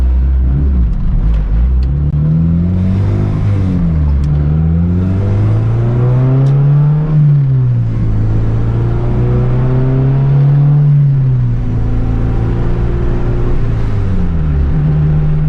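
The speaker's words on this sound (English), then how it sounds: "we're gonna go through the gears and you'll see how it shifts." A hatchback engine pulls up through the gears under gentle acceleration, its tone climbing and then dropping at each of several shifts before settling into a steady cruising hum, loud and close from inside the car.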